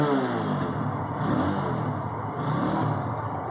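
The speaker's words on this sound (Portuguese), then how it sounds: "barulhinho da motoca dourada." A 170cc Apache motorcycle engine revs steadily up close, a loud continuous mid-pitched drone with slight rises and falls and no talk over it.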